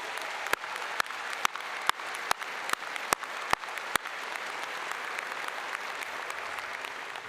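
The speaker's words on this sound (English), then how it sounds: "That definitely deserves a round of applause." An audience at a veterinary medicine college commencement ceremony claps, with a few sharp close claps punctuating a steady wash of applause from the crowd, fairly faint and continuous for several seconds.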